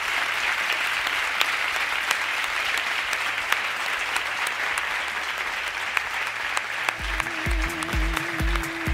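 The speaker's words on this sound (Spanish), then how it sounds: "de nuevo un aplauso para ellos, por favor" Audience applause at a live Pull & Bear meet and greet with MotoGP rider Marc Marquez, steady dense clapping throughout, with a thumping music beat coming in near the end.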